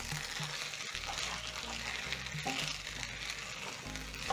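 Coriander being stirred into sweet chili fries in a hot pan, with a steady frying sizzle and soft scraping stir sounds running throughout, close and continuous.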